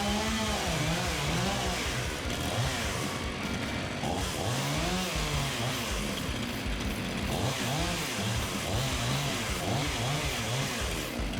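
Chainsaw cutting a notch into a rotten birch tree, the engine snarling loudly and steadily with repeated rising and falling revs as the chain bites into the wood, close and continuous throughout.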